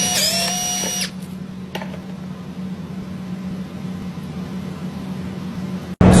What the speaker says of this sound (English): the difference between an impact and using a premium drill driver